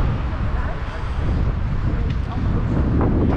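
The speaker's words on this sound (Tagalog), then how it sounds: "Ang hangin" Steady wind buffets the microphone outdoors in Brussels on a cold, overcast day, a loud, continuous rumbling roar that fills the whole clip without pause.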